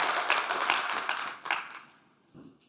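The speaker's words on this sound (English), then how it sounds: "give Becca a round of applause one last time" Brief burst of applause from a small gym audience at a CrossFit sales seminar, dense clapping that fades out after about a second and a half, followed by a few scattered claps.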